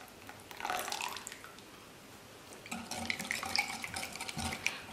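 Ordinary tap water pours into a cake batter of eggs, sugar and oil, a soft splashing trickle in two bursts separated by a quiet pause, close by.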